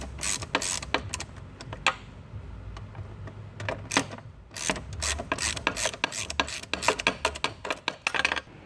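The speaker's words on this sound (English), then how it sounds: "Here we can see the two bolts that we need to remove. They're 8mm socket, and they come straight out pretty easily." An 8mm socket ratchet clicks rapidly in bursts while backing out bolts on a Sea-Doo Spark personal watercraft intake, close and crisp, with short pauses between runs of clicks.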